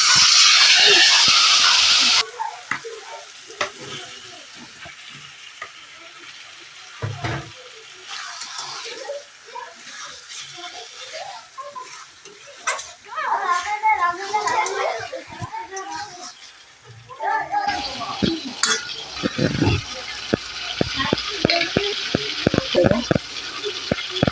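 Spice paste with added tomato and a splash of water stir-fried in a pan for chicken curry, an intermittent sizzle and scraping of the spatula, broken by a loud burst at the start, with talking over parts of it.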